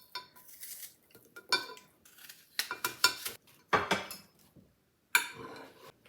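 A knife slicing apples by hand for an apple crisp, with repeated crisp cuts and clacks against a cutting board in irregular clusters, close and clear with pauses between and no talk.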